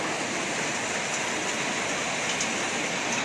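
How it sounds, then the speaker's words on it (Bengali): Steady rain falling in Malaysia, a continuous even hiss of moderate rainfall, neither very heavy nor light, with no voices over it. "দেখুন খুব সুন্দর বৃষ্টি হচ্ছে।"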